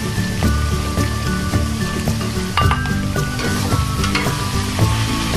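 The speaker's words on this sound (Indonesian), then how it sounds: "Kemudian saya masukkan tempe yang sudah ditumbuk tadi." Mashed tempe sizzles steadily as it fries in a pan for Bogor-style fried bean sprouts, with the scrape and knock of stirring breaking through the continuous crackle, close and fairly loud, with no talking.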